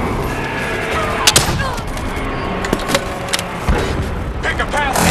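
Gunfire and explosive impacts in the video game Call of Duty Black Ops 3, scattered sharp shots over a constant rumbling battle din, with voices talking throughout.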